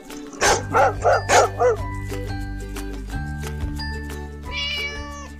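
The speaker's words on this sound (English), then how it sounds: "This is cat." A cartoon cat meows over a steady musical backing, preceded by a quick series of five rhythmic yelping calls, all loud and close.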